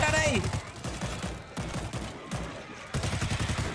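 Rapid automatic gunfire rattles in bursts while players fend off zombie hordes in World War Z's New York chapter, loud and close, with short pauses between volleys and some game noise underneath.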